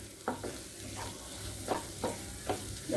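Dal is poured into a hot, sizzling tadka for mixed dal, with a steady frying hiss and several short bursts of splashing and stirring scraping through.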